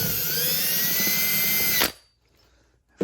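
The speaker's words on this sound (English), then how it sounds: "I'm just drilling straight down through the enclosure." A power drill drilling straight down through a speaker enclosure whines loudly and steadily for about two seconds, then cuts off abruptly, leaving near silence.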